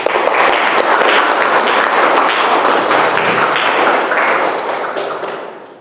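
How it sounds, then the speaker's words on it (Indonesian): A classroom of students applauds a classmate, a loud, dense burst of clapping that holds steady for several seconds and then tapers off toward the end. "Kita kasih tepuk tangan buat Febrian."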